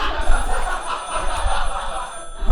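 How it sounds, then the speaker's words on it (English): Telephone ringing onstage during a theatre production of Dad's Army, a bright electronic ring fairly close, with faint stage noise beneath and no talking. "Answer the phone, Wilson."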